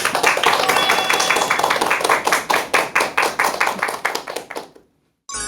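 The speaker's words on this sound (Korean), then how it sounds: "큰 박수 부탁드립니다" A lecture audience claps loudly in a steady rhythm, the applause continuing evenly before fading out and stopping.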